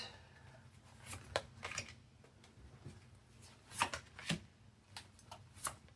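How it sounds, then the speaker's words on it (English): Tarot cards are shuffled close up in a quiet room, with a series of soft, quick riffling bursts spaced irregularly. "I think I'm going to pull a few more cards."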